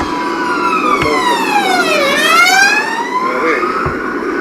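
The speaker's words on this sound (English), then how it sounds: "The ambulance just races past" An ambulance siren wails loud and close as the vehicle speeds past, its rising and falling tone bending sharply in pitch as it passes, with road rumble beneath and no voices.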